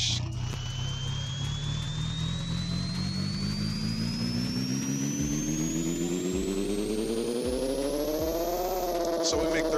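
An Audi R8 in the Pixel Car Racer video game revs hard on a dyno, a loud, continuous engine roar climbing steadily in pitch for several seconds before peaking and dropping off near the end.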